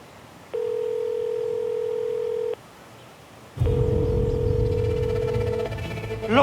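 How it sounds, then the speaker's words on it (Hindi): An outgoing call on a telephone gives two long ringback tones, each a steady electronic beep of about two seconds separated by a pause, the second over a rumbling background. "फोन की घंटी सुनाई नहीं दे रही तुमको मियाँ"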